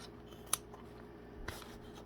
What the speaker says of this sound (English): Just take scissors